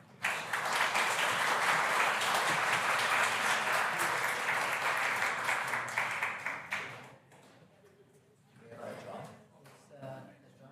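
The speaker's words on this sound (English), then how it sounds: "Another big round of applause for our recipients here today, friends and relatives." Conference audience applauding award recipients, a loud sustained round of many people clapping for about seven seconds before it dies away, leaving quiet room noise and a few faint sounds.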